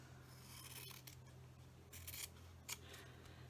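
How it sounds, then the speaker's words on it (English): Scissors snip through fabric up the side of a hidden box book journal, a few faint, brief cuts over a steady low hum. "you're going to cut up the side like that"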